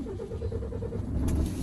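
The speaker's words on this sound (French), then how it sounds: "Je démarre mon véhicule" A truck tractor unit's engine turns over and settles into a steady low idle close by, a rhythmic diesel throb with a faint whine and a couple of brief clicks near the end.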